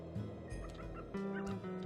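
Birds in the video game Sly 2 let out a couple of squawking, gobbling cries close up, each lasting about half a second, with no talking.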